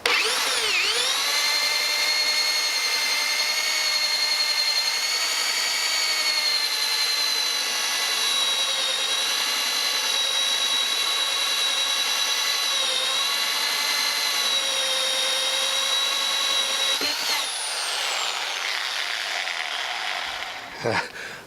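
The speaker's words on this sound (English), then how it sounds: "when the drill pops through" A power drill whines at high, steady speed for a long stretch, boring through thick wood for a bird box, then slows and stops near the end.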